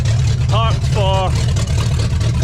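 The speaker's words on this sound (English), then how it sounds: "hasn't ran in 7, and now it's idling" The 5.7 V8 of a 1985 Pontiac Trans Am, unrun for seven years, idles in a steady, low, close rumble while a person talks briefly over it.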